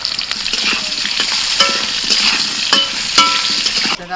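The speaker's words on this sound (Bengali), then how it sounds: "এবার তেলের মধ্যে দিয়ে দিচ্ছি আলু সামান্য হলুদ গুঁড়ো" Potatoes with a little turmeric powder sizzle in hot oil, a steady frying hiss broken by scraping stirs of a spatula in the pan, close and loud with no voices.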